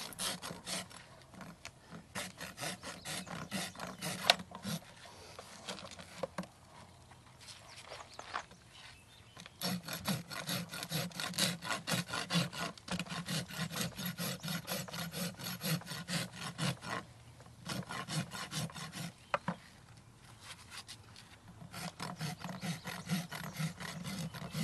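A rasp files a horse hoof into a bevel, making rhythmic, close, gritty back-and-forth strokes in long runs with brief pauses between bursts.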